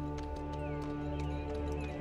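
Horse hooves clip-clop in a quick, regular rhythm, a faint sound effect laid over a steady low musical drone.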